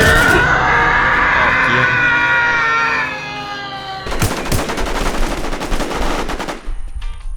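Automatic gunfire in the online survival game WarZ Infestation Sea, a rapid burst of shots after a few seconds of loud shouting and singing voices, ending abruptly.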